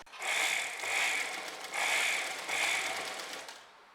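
Domestic sewing machine stitching piping cloth along the edge of main fabric for a long layered kurti, running in four close, steady bursts of rapid mechanical whirring with brief pauses between, no talking.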